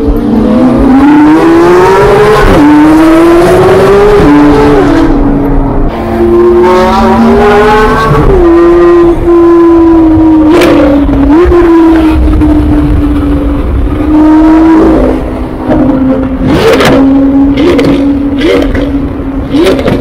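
A Lamborghini engine revs loudly and repeatedly, pitch rising and falling with each throttle blip, close by with some tire noise.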